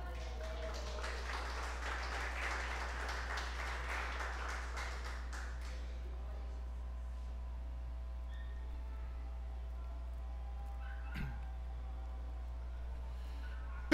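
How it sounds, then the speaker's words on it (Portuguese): A church congregation applauds, a soft spread of clapping for several seconds that dies away into a steady low electrical hum, with a brief faint voice near the end. "Que o nome do Senhor seja louvado com as nossas palmas por isso"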